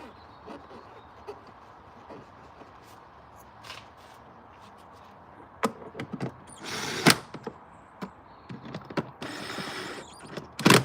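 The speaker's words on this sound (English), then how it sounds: "the electric gun I'm using does not over tighten the screws" Electric screw gun driving screws into a 2008 BMW E90 during a coil pack and spark plug change, heard as several short sharp whirring bursts in the second half over a steady low background hum.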